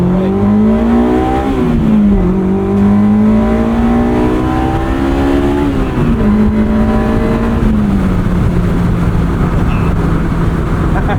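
A Honda S2000 engine revs hard, climbing and holding at very high RPM toward 9,000, a loud, close, rising wail that shifts pitch as the gears change and stays continuous throughout.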